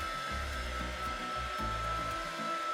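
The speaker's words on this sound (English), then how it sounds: "little hair dryer here, this heat gun." A small heat gun whirs steadily at close range while drying a coat of paint on a canvas lion image transfer, its airflow hum wavering slightly as it is moved back and forth.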